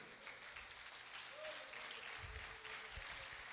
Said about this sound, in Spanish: dele un fuerte aplauso al Padre